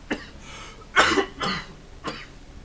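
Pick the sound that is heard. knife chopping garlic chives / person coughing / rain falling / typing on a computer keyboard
person coughing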